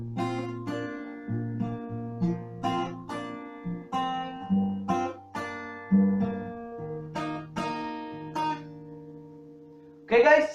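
Fingerpicked guitar plays a song, clear notes ringing out over steady bass tones in a close, solo performance with no talking.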